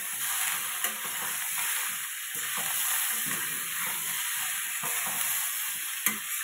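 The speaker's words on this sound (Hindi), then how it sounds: "कटा हुआ धनिया डाल लेंगे थोड़ा सा और इसे भी अच्छे से हम मिला लेंगे" Carrot masala pasta with chopped coriander is stirred in a kadhai, giving a continuous close sizzle and frying hiss broken by soft scraping strokes of the spoon, with no talking.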